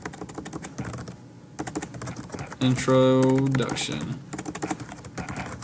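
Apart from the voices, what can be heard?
typing on a computer keyboard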